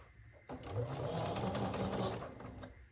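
A sewing machine runs steadily, stitching pieces of an easy charm-pack quilt together in one continuous whirring burst after a brief pause, fairly close and moderately loud.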